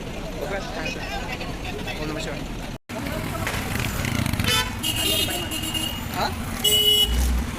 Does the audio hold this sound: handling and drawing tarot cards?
no